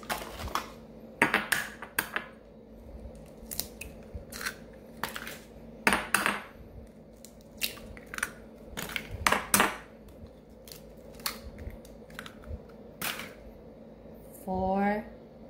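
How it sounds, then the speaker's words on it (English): Eggs cracked one after another into a bowl while making Filipino-style pecan tarts, giving sharp close clicks and knocks against the rim at an uneven pace, with soft kitchen clatter between them and no talk. "Break them in this first so that I don't get any shells in the mix."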